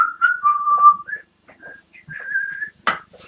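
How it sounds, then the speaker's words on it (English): A person whistles a casual, wandering tune in short melodic phrases with small pauses between them. The whistling is close and fairly clear, with faint room noise behind it. "I try to entertain you by whistling."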